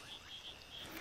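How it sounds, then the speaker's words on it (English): A Kassina decorata running frog's call repeats in short bursts over a steady background hum, fairly faint and continuous throughout. "This is a Cassina decorata, a kind of running frog."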